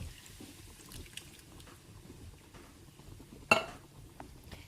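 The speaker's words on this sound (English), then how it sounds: "now I'm going to go ahead and add my diced tomatoes" Diced tomatoes tipped into a pot of boiling lasagna ingredients, landing with a single brief wet splat and clink against the quiet background of a home kitchen.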